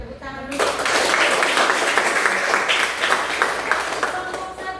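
Classroom applause after a student group finishes its presentation, a broad wash of clapping from many hands that starts abruptly and stays steady and dense, with a voice audible briefly at the start.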